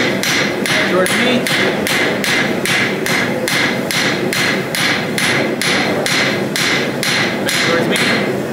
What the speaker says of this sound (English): start right there and start hammering